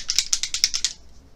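A rapid burst of seven or eight sharp rattling clicks from shaking a makeup setting spray bottle over about a second, close and moderately loud, then quiet.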